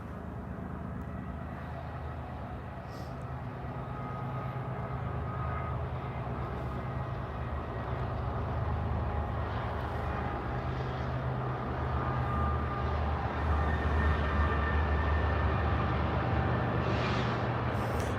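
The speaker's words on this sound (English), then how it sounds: "Train." A train passes nearby for a long stretch, a steady broad rumble and rattle that swells gradually and stays loud throughout, with no talking.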